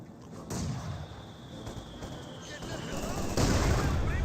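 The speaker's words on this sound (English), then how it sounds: "Good mortar hits right there." Mortar shells land in a Company of Heroes 2 battle, two heavy, rumbling impacts about three seconds apart over a steady din of distant combat, with a voice talking over the fighting.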